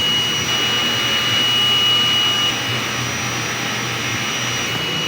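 A DTF printer runs its head cleaning cycle as a steady whirring pump hum with a thin high whine that stops partway through.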